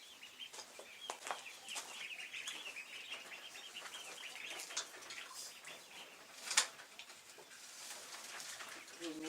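Young ducks in a brooder box with a rabbit-wire bottom, giving a dense chorus of chirping, peeping calls that runs steadily throughout, with one sharp louder call near the end.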